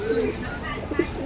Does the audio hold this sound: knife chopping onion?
no